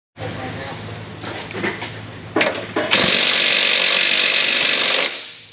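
Power tool working off the top nuts of a car strut, starting with short uneven bursts and clanks and then a loud sustained run for a couple of seconds before stopping.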